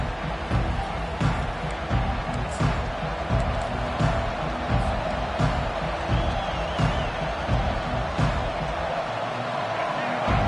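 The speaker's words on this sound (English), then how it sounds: "This crowd trying to make life miserable for this offense." Steady stadium crowd roar in a football video game, a dense continuous wash that swells slightly in places, running under a play-by-play commentator's voice throughout.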